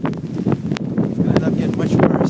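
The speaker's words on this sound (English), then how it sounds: "it's real windy out here as well" Strong wind from a New York blizzard buffets the microphone outdoors, a loud, continuous roaring rumble with gusty swells.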